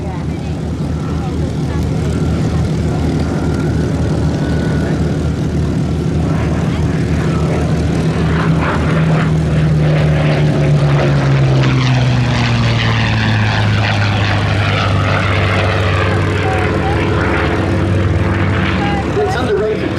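A Curtiss P-40C Warhawk propeller fighter flies at the Duxford Battle of Britain airshow. Its engine drones loud and steady for the whole stretch, and the pitch slides downward as it passes.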